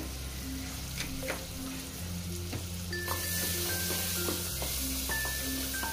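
Tomatoes frying with turmeric in a pan for a prawn dish, giving a steady, close sizzle throughout, with faint stirring clicks and no talking.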